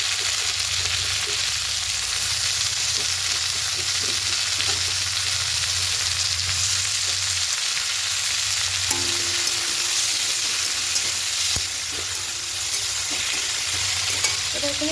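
Fenugreek greens frying with potatoes in a pan over a medium gas flame, a steady close sizzle with stirring scrapes throughout, no voices.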